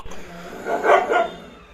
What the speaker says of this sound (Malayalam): ഇതേ ഇവിടുത്തെ പട്ടിയുണ്ടാ